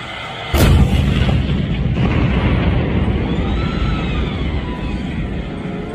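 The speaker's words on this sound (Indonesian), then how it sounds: "Wow, lihat, ada mobil tank baja." A toy steel tank fires a single sharp booming blast, loud and close, followed by a long rumbling, crackling tail that slowly fades.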